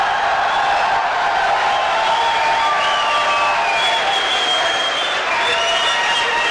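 A poetry gathering's audience bursts into sustained, dense applause welcoming the poet Umair Najmi, a steady wash of many hands clapping at even loudness throughout.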